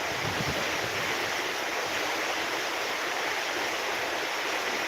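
Strong typhoon wind roars steadily and loudly throughout, a dense, unbroken rush of noise with no voices.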